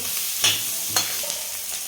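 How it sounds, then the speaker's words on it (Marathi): Ginger and garlic frying in a pan for an Afghani egg curry masala, a soft continuous sizzle close by with a couple of brief scraping stirs, no voices. "ते लसूण पण टाकते. छान खरपूस असा वास येईपर्यंत परतून घ्यायचे."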